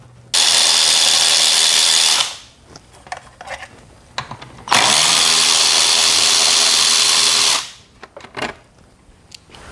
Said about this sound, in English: we have 2 more 10mm screws, right there and right there. Go ahead and remove those next.